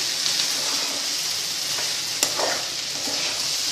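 Potatoes frying in a pan with oil, a steady close sizzle throughout and one sharp scrape of stirring near the middle, no voices.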